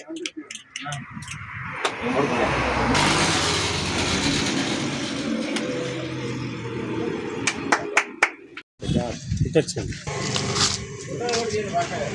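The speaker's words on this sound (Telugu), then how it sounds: "చప్పట్లు కొట్టండి అయ్యా" An audience claps at a farmers' relay protest, with scattered hand claps and sharp smacks amid crowd noise and voices talking nearby.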